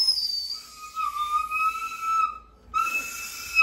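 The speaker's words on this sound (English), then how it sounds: "Go ahead, whistle it really hard." A person blows a hard, piercing whistle: long shrill tones sustained for about two seconds, a short break, then another loud blast, close and alone with no speech.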